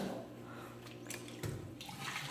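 Tap water running quietly while hands are washed with soap, a soft steady splashing with brief surges, and faint voices talking now and then.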